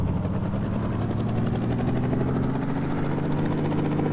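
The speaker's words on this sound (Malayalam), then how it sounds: "നമുക്ക് പോലീസ് ഹെലികോപ്റ്റർ കിട്ടി" A police helicopter flying in a video game, a continuous loud droning rotor thrum with a steady low engine hum that stays level throughout, no voices.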